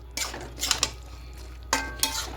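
Shrimp curry with spinach and bottle gourd greens and a fried spice mix stirred in a pan, heard as two short bursts of scraping, clinking strokes against the metal, close and fairly loud, with quiet pauses between.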